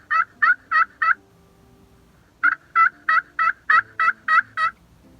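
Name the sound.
slate friction call imitating turkey hen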